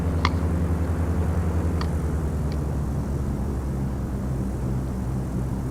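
Light aircraft engine droning in the flight simulator Dovetail Flight School on a flight from Lappeenranta to Mikkeli, a steady low rumbling hum throughout with a few faint clicks over the top.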